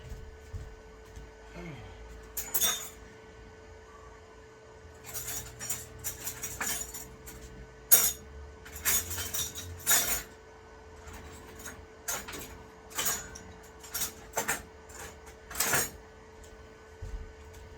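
Scraping and prying clicks from a steak knife working a part loose on a computer, heard as scattered sharp ticks and snaps with a few louder bursts over a steady background hum; no talking.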